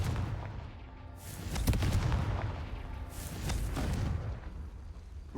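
Confringo fire spell blasts in Hogwarts Legacy, a couple of booming, crackling bursts with a sharp hit and rumbling tail, fairly faint over quiet game ambience.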